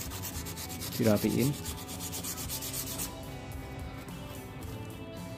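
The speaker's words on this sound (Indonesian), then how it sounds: "Ini ya, kita amplas kayak gini pelan-pelan ya," Rough scratchy rubbing of sandpaper on a motorcycle body panel, continuous strokes close up, with a short burst of speech over it early on.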